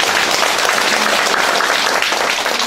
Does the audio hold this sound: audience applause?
yes